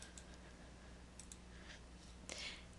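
Soft computer mouse clicks while selecting an ages filter in a search interface, a few faint, quick taps over a quiet background hum.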